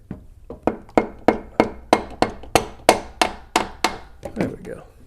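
Hammer tapping a water pump into place on a New Edge Mustang engine, about a dozen sharp metallic knocks at a steady, fairly quick pace, close and alone, the last few softer.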